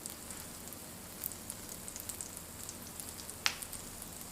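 Glutinous rice cake dough pan-fries in a generous layer of hot oil, giving a soft, steady sizzle with faint scattered pops and one sharper crackle near the end.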